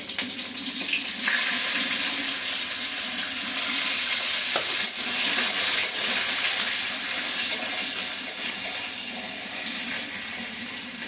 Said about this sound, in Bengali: দিয়ে দেবো গোটা তেজপাতা, আদা কাঁচা লঙ্কা কুচিটা দিয়ে দেবো।